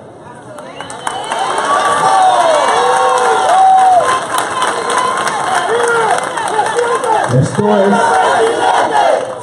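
A large crowd shouts and cheers loudly at a political rally in San Andrés, Colombia, sustained roaring chants filling the whole stretch, with someone speaking over it near the end.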